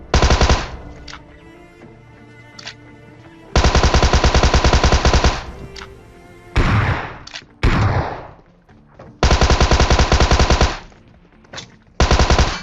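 Machine gun fire in a battle royale video game: long, loud sustained automatic bursts alternate with shorter volleys and brief pauses, with no talk over them.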